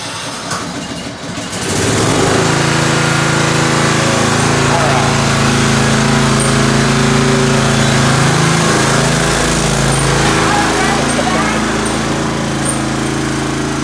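A riding lawnmower engine cranks and catches after its transmission belt and idler pulley are replaced, then settles into a loud, steady close-up run with no talk over it.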